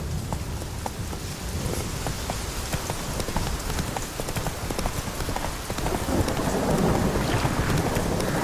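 The horse Roach gallops through heavy rain in The Witcher 3: Wild Hunt, steady hoofbeats under a dense, continuous wash of rainfall and rumbling thunder, with no talk.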